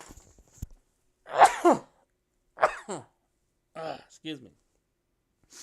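A single sneeze from a person during a live desktop design stream, followed by brief speech in the room.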